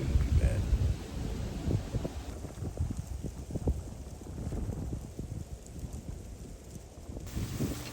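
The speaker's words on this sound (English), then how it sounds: "if it wasn't for the wind, it really wouldn't be bad." Wind buffets the microphone outdoors during a deer hunt, a steady rough rumble that swells and eases, with faint thumps and rustles under it.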